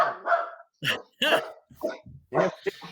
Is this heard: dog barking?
yes